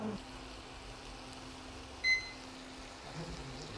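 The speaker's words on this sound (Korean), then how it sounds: "우리 타이머로 2분을 다시 한번 맞춰주세요." A kitchen cooking timer beeps once briefly while being set to two minutes during a fish cake stir-fry cooking activity, a single short high tone over quiet room hum.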